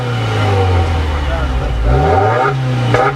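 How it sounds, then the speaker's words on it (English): A sports car engine hums steadily, its pitch rising and falling as it is revved, heard from inside the car under a voice. "It needs a better exhaust note."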